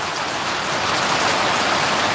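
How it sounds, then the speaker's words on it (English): Heavy rain pours onto a shed roof, a loud, dense, unbroken hiss of drumming drops filling the space with no voices. "you try and do a live stream in a shed and it pours down rain and you can't hear a damn thing"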